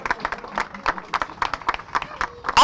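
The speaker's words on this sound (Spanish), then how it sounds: "fuertes los aplausos." Scattered clapping from a small crowd honoring a third-place Senior 190 finisher at a karting championship, uneven bursts of hands with an announcer's voice over them.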